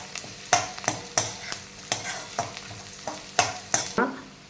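Chopped carrot and onion with tempering spices are sautéed in a pan for samba wheat upma, a spoon scraping in about ten regular strokes over a soft, steady sizzle.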